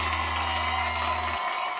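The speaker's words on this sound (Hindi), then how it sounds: "लेकिन आज आपकी इस कविता के लिए हम जोरदार तालियां।" Brief burst of audience applause on a Hindi TV comedy set, fairly loud with a low steady hum underneath that cuts off near the end.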